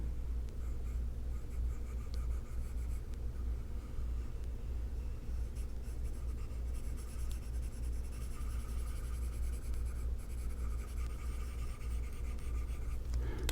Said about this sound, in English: Let me erase the nose area.